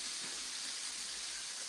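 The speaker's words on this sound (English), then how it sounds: "I'm sure it'll all sizzle away" Water sizzles and steams in a hot pan while cooking spaghetti squash and turkey meatballs, a steady, soft, continuous hiss with no pauses and no voices.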